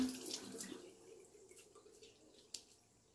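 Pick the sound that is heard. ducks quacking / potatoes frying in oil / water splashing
water splashing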